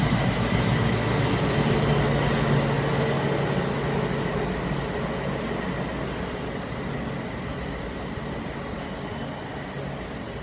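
Class 60 locomotive 60099 in Tata Steel livery passing Lincoln Central, a loud, steady rumble of engine and wheels that fades slightly as it goes by, with no voices.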